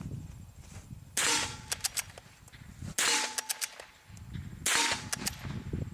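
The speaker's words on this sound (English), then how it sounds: "Here's shorts out of the Model 25. First into the trap." .22 Short rounds fired from a Model 25 rifle into a metal bullet trap: three sharp shots about two seconds apart, each one followed at once by a bright, ringing metallic clang from the trap, close and loud.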